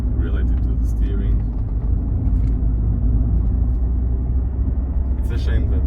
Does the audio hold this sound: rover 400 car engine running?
yes